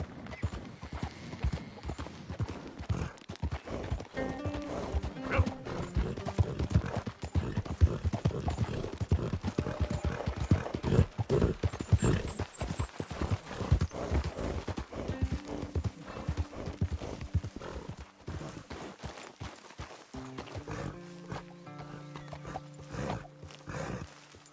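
Horse hooves clip-clop steadily on the ground in Red Dead Redemption 2, a close, rhythmic trotting that runs throughout with occasional soft snorts and a brief pause near the end.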